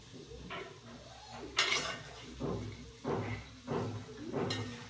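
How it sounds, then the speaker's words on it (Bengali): Washed taro stems tip into a cooking pan of shrimp and a small potato, giving several close clattering clanks of utensil against metal in uneven bursts over a faint background hiss. "তো এখন আমি ধুয়ে রাখা লতিগুলো দিয়ে দিব।"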